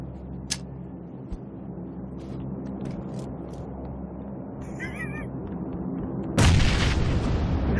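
A grenade explosion in a first-person shooter game on the Hacienda map bursts loudly near the end, a sharp heavy boom after several seconds of quieter ambient rumble, faint clicks and a short electronic chirp.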